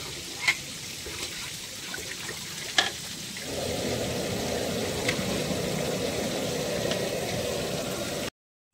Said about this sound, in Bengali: এবার দিয়ে দেবো দুধটা, এটা ভালো করে ফোটাবো একটু